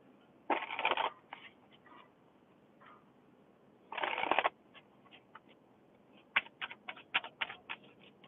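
Tarot cards being shuffled: two quick riffling bursts, then a run of soft taps and flicks, close and fairly quiet with no speech.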